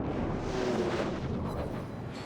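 Main battery salvo of an Amagi battleship firing armor-piercing shells at a Hipper cruiser in World of Warships, a dense, loud rumbling boom that fills the whole clip and slowly fades.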